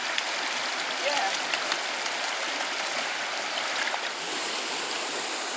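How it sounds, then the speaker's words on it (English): A river in Jamaica flows steadily near its upper reaches, a continuous broad rushing of water close by with no pauses. "So this is the top part of the river"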